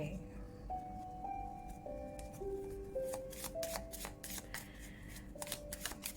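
A deck of tarot cards is shuffled close by in repeated soft riffling bursts that grow denser toward the end, over a quiet melodic background tune.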